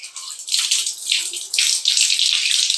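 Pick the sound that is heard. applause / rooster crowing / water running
water running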